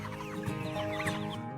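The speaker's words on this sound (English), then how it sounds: "this interesting looking chicken called a silkie" A silkie chicken on a farm clucking softly amid a busy barnyard murmur of other fowl, a moderately faint, continuous mix of low chatter-like clucks without any human voices.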